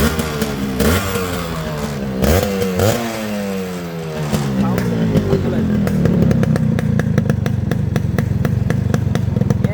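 A Yamaha RX 100 two-stroke motorcycle engine revving up close, loud buzzy rasp rising and falling in several throttle blips, then settling into a fast, rattly idle-to-mid rev.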